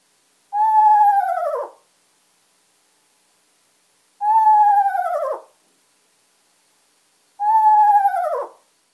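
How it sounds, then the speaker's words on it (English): An owl gives three loud, close descending whinny calls, each a horse-like quavering note about a second long that drops in pitch, separated by silent gaps. "One is the descending whinny call, as we call it."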